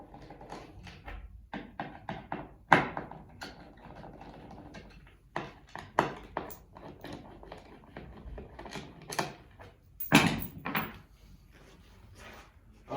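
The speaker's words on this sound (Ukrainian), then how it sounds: "викручуємо ось ці болти." Bolts being unscrewed with a sturdy screwdriver or ratchet while a Mr.Helix Premium cosmetology chair-couch is assembled, heard as close irregular clicks, knocks and metallic rattles with short pauses between bursts.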